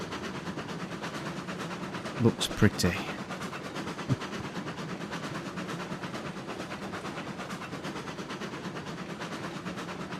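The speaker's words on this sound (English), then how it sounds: "This one is a nice train. It's not a very fast train, but it's a nice train." Steam train rolling along in the video game Railroads Online, a steady rumbling rail drone with a few clanking knocks, under people talking.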